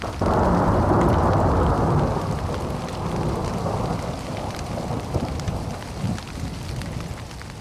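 Thunder rumbles heavily, then settles into a long rolling growl over steady pouring rain, with no voices.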